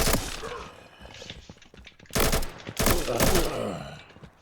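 Video game weapon gunfire comes as a few loud, close blasts of shots, with a rougher stretch of firing and clatter between them.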